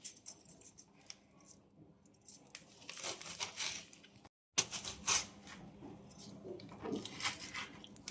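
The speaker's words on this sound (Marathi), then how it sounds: "तर आपल्याला ही कापायची आहे." Freshly washed spring onion greens are cut into small pieces, giving quiet, close crisp snips and crunches in irregular bursts.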